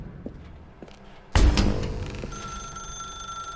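In The Stanley Parable video game a telephone bursts into loud ringing after quiet footsteps, a sharp, bright bell tone that starts suddenly and keeps sounding steadily to the end, with no talking.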